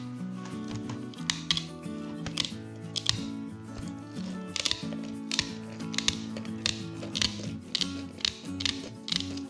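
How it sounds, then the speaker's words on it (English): Metal shears snip repeatedly through spotted gar skin and hard scales, giving a series of sharp crisp cuts in an irregular rhythm, fairly faint and close. "These metal shears."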